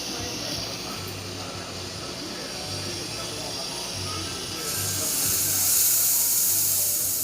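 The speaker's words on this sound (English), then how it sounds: "Nice strong steam." Steady, strong hiss from the steam wand of a freshly serviced La Pavoni espresso machine, running continuously at close range and growing brighter and louder toward the end.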